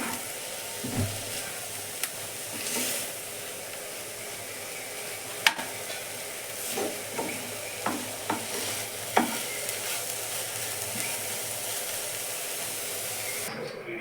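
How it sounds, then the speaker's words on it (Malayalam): Tender banana leaf thoran is stirred in a pan, a soft steady hiss of cooking steam with scattered light scrapes and taps of the spoon, fairly quiet and close, without talk. "നമുക്കൊന്ന് ഇളക്കി നോക്കാം"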